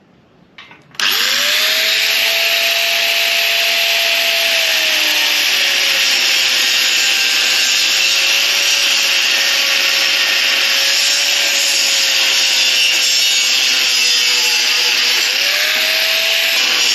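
A power tool cuts a replacement piece for the rear crossmember of a small boat trailer, starting abruptly and running loud and steady for about sixteen seconds with a droning whine that wavers slightly in pitch.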